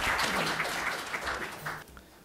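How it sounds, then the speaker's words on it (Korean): Conference audience applauding for a panel of speakers, a full burst of clapping that holds steady then tapers off near the end. "자, 모두들 여러분 박수 부탁드립니다."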